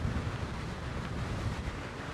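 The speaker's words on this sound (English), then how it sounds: "oh man, it's windy." Strong, steady wind buffets the microphone outdoors as the leading edge of an incoming storm arrives, a loud broadband rush with gusty low rumble throughout and no talking.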